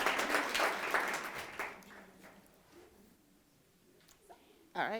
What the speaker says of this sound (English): Come. Applaud. Applaud.